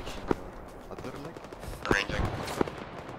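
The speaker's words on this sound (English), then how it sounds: "My machine gunner is ineffective at" Machine gun fire sounds in a military tactical video game. A few sharp bursts come at a distance and stand apart from each other, with quiet radio-style chatter and low background noise in between.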